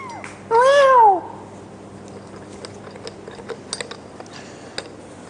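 A cat gives one loud, drawn-out meow with rising and falling pitch at feeding time, followed by soft chewing and faint clicks in a quiet room.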